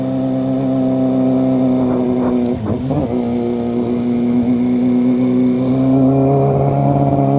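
A motorcycle engine held at full throttle climbing a steep rough road near Sitio Baag, San Jose, Tarlac, droning loud and close with a strained, steady pitch that briefly dips and wavers midway before settling back into the climb.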